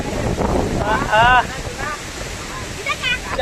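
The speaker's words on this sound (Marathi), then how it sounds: "जाम खतरनाक वारा पण लागेल" Strong, gusty wind buffets the microphone near Nanemachi waterfall in Raigad during the monsoon, a dense roaring rush with brief whistling tones and what may be faint voices underneath.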